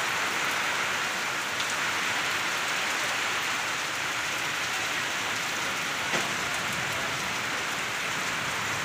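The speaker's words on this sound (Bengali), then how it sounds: "কি সুন্দর বৃষ্টি পড়তেছে" Steady rain patters down on surfaces outdoors, a dense continuous hiss with scattered louder drops, close and even throughout.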